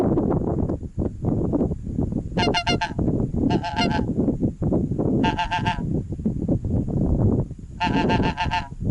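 Geese honking in flight over a goose hunt in Yakutia, four short bursts of repeated nasal honks rising over a steady loud rumbling background.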